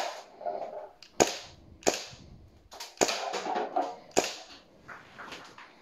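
Airsoft BB gun shots crack at a target at close range, five or six sharp snapping reports at irregular intervals with scuffing handling noise between them.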